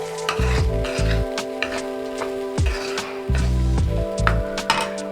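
Beef cutlet filling of spiced meat sautéed in a pan for a Kerala-style recipe, sizzling steadily with repeated bursts of stirring and scraping, close and loud with no talking.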